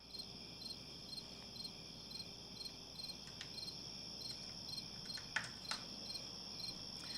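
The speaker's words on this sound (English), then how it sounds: "Some crickets." Crickets chirp in a steady, continuous high trill that runs throughout, with a few faint clicks and knocks in the background.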